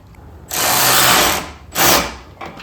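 A ratchet tightens a bolt on a Subaru WRX during an intake install, heard as two quick close bursts of clicking, the first longer than the second, with no talking.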